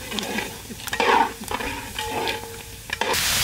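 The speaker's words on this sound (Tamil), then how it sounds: "வெங்காயத்தை போடுறாங்கண்ணா." Chopped onions hit a hot pan with roasted ginger for a ginger chicken dish, giving a loud, steady sizzle broken by spoon scrapes and clanks as they are stirred.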